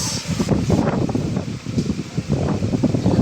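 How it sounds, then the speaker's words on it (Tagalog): Strong wind gusts through large trees in an outdoor park at Greenbelt, a close, rushing roar of rustling leaves and buffeting air that swells and dips over a few seconds, with no voices. "Malakas na din yung hangin"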